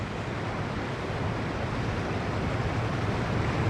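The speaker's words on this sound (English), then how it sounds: "Creek beds that have been dry sand for years become raging rivers in minutes." A flash flood turns a dry desert creek bed into a raging river, giving a dense, steady roar of rushing water that stays loud throughout with no pauses.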